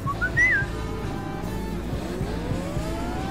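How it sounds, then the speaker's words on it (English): A car engine strains at maximum power as a sound effect in an audio drama, a loud sustained roar with a rising whine sweeping upward at the start, then a steady droning engine tone that holds and slowly climbs. "Ruby, maximum power to the engines."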